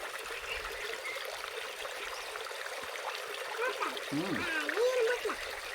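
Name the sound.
flowing water stream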